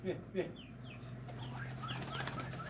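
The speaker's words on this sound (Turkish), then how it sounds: "Bu arada güvercinler de inmiş biz içeri girince." Pigeons flutter nearby in two quick bursts of flapping wings at the start, followed by soft chirps and light rustling over a low steady hum.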